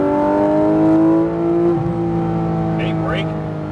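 A Porsche GT3 RS accelerating on track gives a loud, close engine drone with a steady pitch that breaks at one gear change, then settles into a slightly lower tone, with talk over it.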